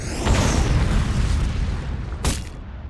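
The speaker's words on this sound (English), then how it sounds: "Now was a good time to use Artillery Strike." An Artillery Strike goes off in the card game Horus Heresy Legions: a loud booming explosion with rumbling low end that fades, then a sharp burst near the end, with no voices.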